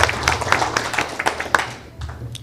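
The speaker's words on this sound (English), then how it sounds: "Another round of applause." An audience at a Federal Reserve economic outlook meeting gives a short round of applause, scattered claps that fade out over a couple of seconds.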